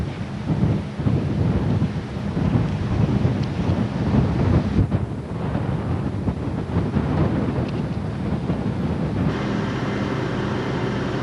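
Steady heavy rain pours down in a windy storm with thunder rumbling low beneath it, a dense, continuous roar with gusts buffeting the microphone throughout.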